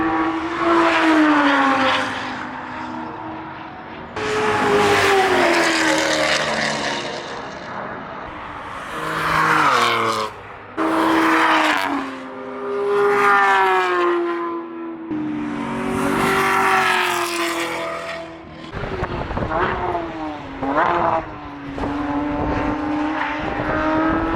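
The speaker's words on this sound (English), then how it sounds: "right now I think there is a few cars coming out on track" Hypercars with V12 engines racing past at Circuit of the Americas, several loud, close passes with rising and falling engine howls and revving, separated by brief quieter gaps before the next car screams by.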